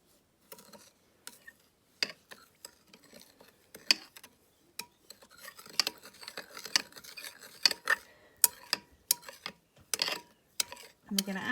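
Sugar being stirred into melted butter for flapjack, a metal spoon clinking and scraping against the bowl in irregular, fairly quiet taps that grow busier toward the end.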